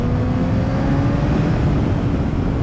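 A Honda CBR600RR motorcycle engine pulls at full throttle from low revs, a loud, close, steady deep drone with a slowly building pitch over a few seconds, no talking.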